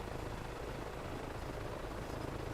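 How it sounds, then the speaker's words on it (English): A helicopter flies in Microsoft Flight Simulator 2024, a steady, fairly quiet rotor-and-engine drone that holds unchanged throughout with no talking. "Fun helicopter though"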